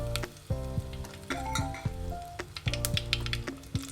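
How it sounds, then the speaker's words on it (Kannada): Cumin, curry leaves and dried chillies sizzle in hot oil for a holige sambar, a close, steady frying crackle broken by stirring scrapes and light clinks of the pan. "ಜೀರಿಗೆ ಕರಿಬೇವು ಮತ್ತು ಒಣಮೆಣಸಿನ್ಕಾಯಿನ ಹಾಕ್ಕೊಳ್ತಾ ಇದ್ದೀನಿ"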